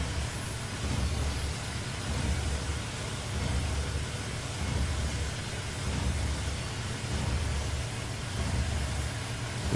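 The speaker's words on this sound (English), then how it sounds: "This Ford tractor's like really fast, so I gotta watch it, otherwise it'll overspeed, and the baler can't handle going that fast." A Ford tractor in a farming video game hauls a hay baler, its engine giving a steady, droning rumble with a broad noisy hiss that holds level throughout, with no voices.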